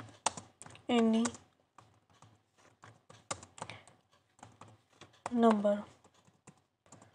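Python code typed on a computer keyboard: scattered close, crisp key clicks and short bursts of typing between stretches of someone speaking Hindi.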